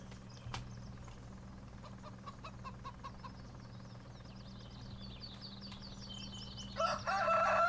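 Chickens clucking and a rooster crowing in the Farming Simulator 19 video game, a steady run of bird calls over a low farm hum, growing louder near the end.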